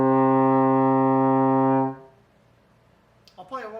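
A euphonium sustains a single loud, steady C for about two seconds, then stops abruptly, followed by a brief quiet breath or shuffle.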